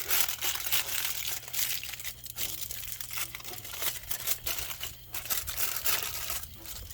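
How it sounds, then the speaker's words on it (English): Aluminum foil crumpled and folded by hand over meat on a trailer-mounted BBQ pit, a steady close crinkling that runs throughout over a low hum from the smoker. "I'm gonna put this little bit of foil here"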